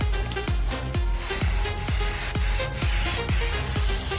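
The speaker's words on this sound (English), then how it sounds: "I have some leftover undercoating, rubberized black. So I'm going to spray about half the 4 feet of it." Rubberized black undercoating sprayed onto an old semi trailer: a steady, loud hiss of spray close by, with rhythmic knocking pulses about every half second underneath, no talking.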